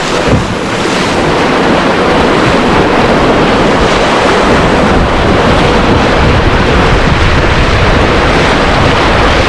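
Loud, continuous rushing of churning whitewater on the Spanish River during a canoe trip, with heavy wind buffeting the microphone throughout and no voices.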